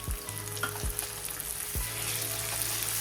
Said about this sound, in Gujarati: મરચું એડ કરીશું, તેને પણ સાંતળી લઈશું।